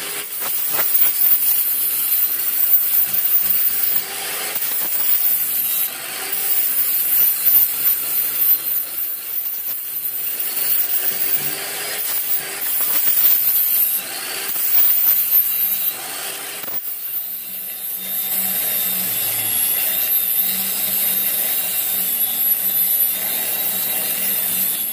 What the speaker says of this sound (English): We'll have to grind down all the metal bits first, and then we'll start shaping the handle.